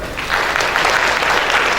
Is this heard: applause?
yes